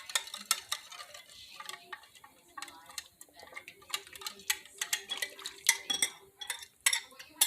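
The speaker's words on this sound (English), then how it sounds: "Just want to give this a stir." A spoon stirs pork chops through brown sugar glaze in a bowl, making a steady run of light clinks and ticks against the bowl, close up with no talking.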